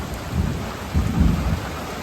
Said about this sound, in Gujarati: પાછો વરસાદ ચાલુ છે અને કડાકા ભડાકા